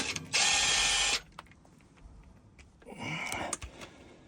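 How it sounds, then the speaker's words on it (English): Ratchet with a 17mm socket undoing the bolts on a Land Rover Defender Salisbury differential cover: a loud, steady burst of rapid pawl clicking, then quieter scattered clicks and a softer second run of ratcheting. "So 17mm socket is going to take all these off."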